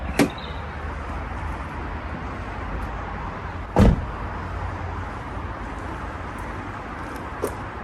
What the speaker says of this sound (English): This lever here, pull that down and it releases the bonnet